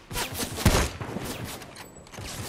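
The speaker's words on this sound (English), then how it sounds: "Somebody else is shooting." Gunfire from another player in a video game pops in a rapid series of shots, steady and moderately distant, over a busy, noisy game ambience.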